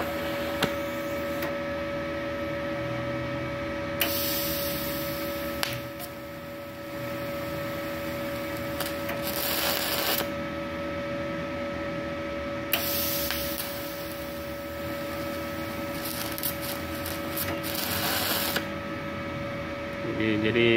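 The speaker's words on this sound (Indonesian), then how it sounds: "Jadi kalau kita perhatikan di sini, kita mengelas." TIG welding on stainless steel with a Multipro TIG 200A argon welder run on 450-watt household power: a steady electric arc hiss with a constant tone, interrupted by short bursts of louder crackle as the arc starts and stops.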